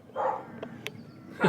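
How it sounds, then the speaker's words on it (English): A farm dog barks a few short times at moderate distance, with brief yips standing out over a quiet outdoor background in a Scottish village. "the dog's barking at me"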